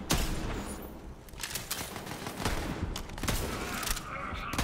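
Gunfire bursts in Borderlands 3, a rapid fusillade of shots with bullets ricocheting, loud and continuous across the whole stretch with sharp transient peaks.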